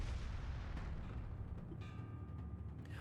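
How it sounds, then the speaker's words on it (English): Bomb explosions from the video game Ys 9 roll on as a dense, continuous low booming rumble, fairly faint, with no talk over it. "The bombs, I guess. Explosion not seen in this version of the game."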